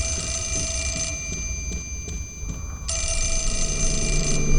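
A telephone rings in the horror game Fatal Frame: Mask of the Lunar Eclipse, a loud, steady electronic trill that drops out briefly mid-clip and then resumes at full strength, heard alone with no talk.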